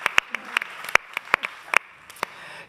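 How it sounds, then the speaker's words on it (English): A conference audience on a women CEOs' panel about space travel gives a short burst of scattered hand claps, a dozen or so sharp claps over under three seconds, thinning out toward the end. "give us a round of applause"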